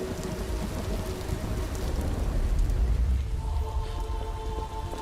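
Steady rain pours in the Vintage Story video game world, a dense continuous hiss with a faint low rumble beneath, loud and unbroken throughout with no voices.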